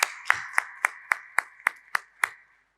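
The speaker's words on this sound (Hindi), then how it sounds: "इन सब का हम तालियां बजाकर स्वागत करते हैं।" Clapping to welcome guests at a public meeting, heard as about nine crisp, evenly spaced claps in a steady beat, close and ringing slightly, then stopping into silence.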